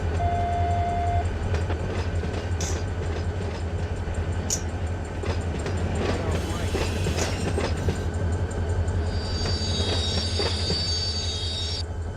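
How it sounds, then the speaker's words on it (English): Freight train brakes squeal in the Run 8 train simulator game: a continuous rumble of rolling railcars with wheel clatter, topped by thin, high brake squeals that rise near the end. No one talks. "Yes, squeaky brakes. Need some more Earl on them."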